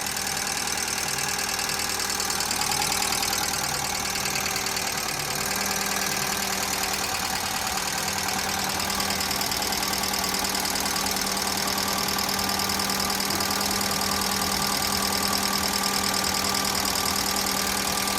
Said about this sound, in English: Just got a bit of engine flush going around it at the minute